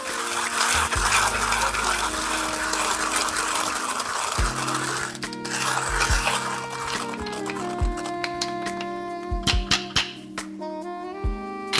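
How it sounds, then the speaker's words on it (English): A hand coffee grinder crushes beans with a dense, raspy grinding that fills the first half, then gives way to lighter scraping and tonal rattles as the grinding slows and ends. "on the hand grinder, it should take about 30 seconds to grind this"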